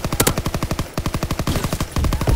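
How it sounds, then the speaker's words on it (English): A shotgun fires in a military shooter video game amid rapid gunfire, a fast rhythmic string of sharp loud shots about a dozen per second with a heavier blast near the end. "And he shotgunned me"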